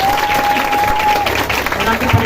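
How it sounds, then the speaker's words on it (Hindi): Church congregation applauding during a Hindi Christian sermon, steady dense clapping filling the whole moment with a sustained tone and voices mixed in underneath. "तालियां बजाएं उस परमेश्वर के लिए।"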